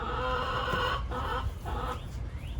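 Backyard chickens clucking close by, a few short bursts of hen chatter and a brief rising call, with no one talking.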